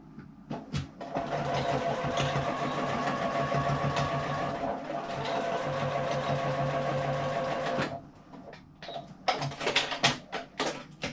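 Sewing machine stitching a small fabric hand sanitizer pouch with a back stitch, a steady close mechanical whir running for several seconds, then stopping, followed by a few brief clicks and handling noises.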